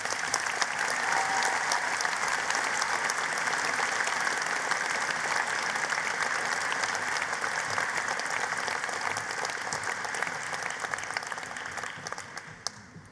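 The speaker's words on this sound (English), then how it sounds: "So please could you give John another round of applause, please" A large audience at a November 2019 Derby university graduation ceremony applauds an honorary award recipient, giving sustained, dense clapping that holds steady and then tapers off at the end.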